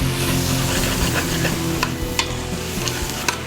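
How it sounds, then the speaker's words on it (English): Onions sweating in a hot pan, a loud, constant sizzle with a handful of light spatula taps and scrapes late on, close and with no voice. "So we're just gonna sweat the onions and get a little bit of color on them."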